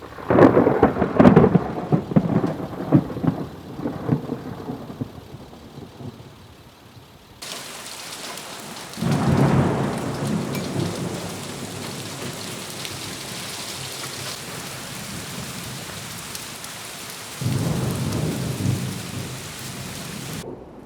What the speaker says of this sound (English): it's raining out here pretty good. Got a nice storm going on.